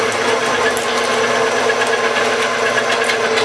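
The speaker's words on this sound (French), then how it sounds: "La viande comme ça, la machine on la démarre, pas trop vite." An electric meat grinder mincing beef runs at low speed with a steady, close mechanical whir and faint irregular clicks and knocks from the mechanism, with no voices.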